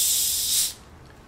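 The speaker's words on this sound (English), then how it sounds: "We're going to do the little fizz test here." Faygo orange soda fizzing, a close, loud bright hiss of carbonation that holds steady for under a second and then drops away to a faint residual crackle, ending with a sharp click.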